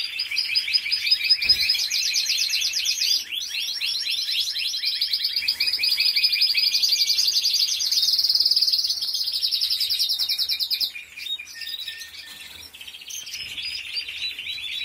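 Small birds sing loudly and continuously, with rapid trilling chirps overlapping close by, briefly dropping off near the end before resuming.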